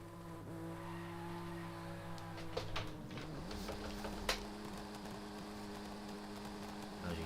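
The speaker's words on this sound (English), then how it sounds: "As you can see, we get a lot of wheel spin and pops and bangs with this car." A race car in a snowy racing video game spins its wheels with a droning engine note that shifts pitch, plus a few sharp exhaust pops and bangs, steady and moderately loud with no talk.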